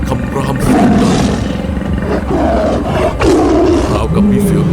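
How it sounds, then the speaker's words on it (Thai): A legless corpse in a ghost story lets out a loud, deep, growling roar that rolls on and swells in waves for several seconds, close and forceful like a big cat. "จากนั้นนางก็อ้าปากและคำรามเสียงดัง"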